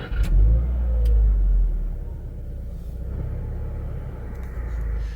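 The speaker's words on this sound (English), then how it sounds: "To start the car, put your foot on the clutch and the brake and hit the engine start-stop button" A 2019 Subaru WRX engine starts with a loud, deep rumble that settles into a steady, heavy idle close by, with no talking.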